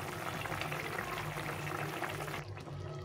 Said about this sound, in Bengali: তো ঝোলটা ফুটে গেছে, দেখো কত সুন্দর হয়েছে